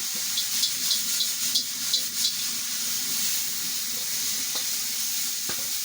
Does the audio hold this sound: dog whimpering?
no